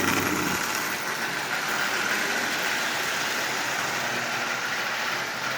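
A Marx toy train with a single reduction motor, fitted in a Marx 400 shell with the E-unit bypassed so it runs forward only, whirs steadily and continuously at close range with no talk over it.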